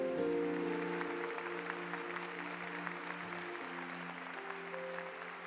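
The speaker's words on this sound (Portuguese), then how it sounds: "Podemos aplaudir o Santo Evangelho." Scattered applause for the Gospel from a modest congregation at a Catholic Mass, soft and somewhat distant, while sustained organ-like tones linger underneath.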